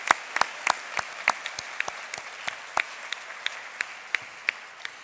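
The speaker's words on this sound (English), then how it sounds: "Please give her a round of applause" Sparse, distinct handclaps ring out in a large hall during a church conference annual meeting, a thin, uneven round of applause with individual claps clearly separated.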